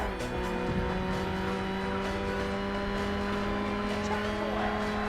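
Burnout racing game car drifting with tire squeal, steady engine drone and sustained tonal screech running continuously, loud and close, with faint talk underneath.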